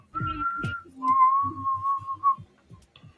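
A person whistles two sustained tones, a short higher note followed by a longer lower one, close and clear over intermittent low thumps and rumbles.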